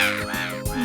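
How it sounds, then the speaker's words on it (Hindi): Cartoon crows give loud, close, drawn-out caws, two calls in quick succession with no talk over them. "लेकिन ये कौवे लोग इतना शोर क्यों करते हैं?"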